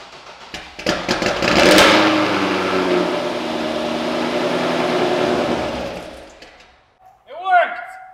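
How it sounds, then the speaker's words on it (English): A Chevrolet Corvette Z06 engine cranks and fires for the first time, then settles into a loud, steady, rumbling idle that fades out. An excited voice follows at the end. "First start of the Corvette."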